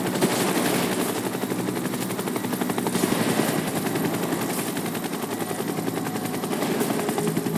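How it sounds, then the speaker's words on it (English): A video game helicopter's steady rotor thump dominates in Final Fantasy VII Rebirth, with rapid bursts of gunfire layered over it, loud and continuous throughout. "A helicopter."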